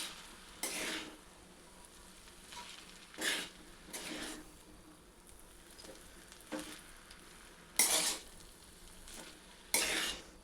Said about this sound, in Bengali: এটাকে ভালো করে ওপর নিচ করে এটাকে মিশিয়ে নিতে হবে ভালো করে।